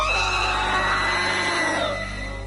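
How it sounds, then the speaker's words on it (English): A creature lets out a piercing, sustained scream, loud and harsh with a rough layered tone and a droning hum underneath, holding steady for a couple of seconds before easing slightly. "What is that soul-splitting scream?"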